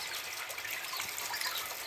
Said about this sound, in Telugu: ఇది ఒక చిన్న మినీ వాటర్ ఫౌంటైన్లో చేయడం జరిగింది